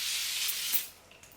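A facial mist water spray gives one soft, breathy hiss close up that lasts under a second and then fades, followed by faint quiet handling.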